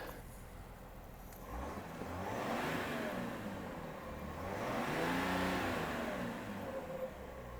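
A 2020 Chevrolet Silverado Duramax diesel pickup engine revs up twice, rising and falling in broad swells, close by with no talking.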